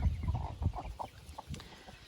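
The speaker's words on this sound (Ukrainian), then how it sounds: "ми вивели ось таких своїх голубеньких курочок брама" Blue Brahma hens cluck softly and close in a short series of low, irregular clucks with quiet background noise.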